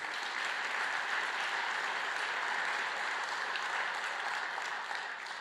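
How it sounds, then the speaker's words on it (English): Sustained applause from a large audience at a Bothell State of the City Address, a dense, even wash of many hands clapping that holds steady and tapers slightly at the end. "Let's give a round of applause for the Main Street businesses."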